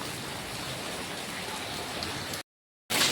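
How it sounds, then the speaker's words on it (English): Steady rain falls outdoors in Jalna, a dense even hiss of drops that cuts to silence briefly near the end before resuming. "rain was now coming"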